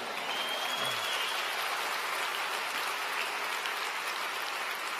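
Dense audience applause at a university graduation ceremony, a steady broadband wash of many hands clapping continuously at even loudness throughout, with no voices standing out.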